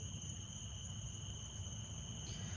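Crickets chirp in a steady, unbroken drone, faint and distant over a low background hum, with no voices present.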